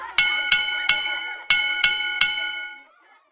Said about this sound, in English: They went on playing Uncle John till Teacher rang the bell.